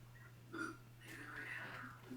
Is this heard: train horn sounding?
no